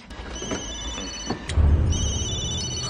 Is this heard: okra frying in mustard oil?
no